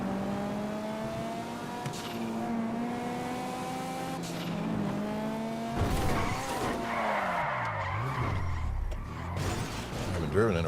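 Car skidding in The Last of Us video game: a continuous engine drone with rising revs, then loud tire squeals and sliding noise swelling midway, with some speech-like voice beneath.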